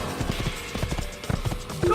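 Horse hooves clip-clopping during a ride in the video game Assassin's Creed, in a quick uneven rhythm over some mechanical creaks, close and moderately loud.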